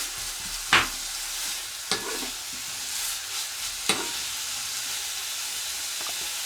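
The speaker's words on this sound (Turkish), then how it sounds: "Şimdi bunu 1-2 dakika kavurmamız lazım." Butter sizzles steadily in a hot pan on a stovetop, with a few sharp scrapes and clinks of stirring against the pan every second or two; no one speaks.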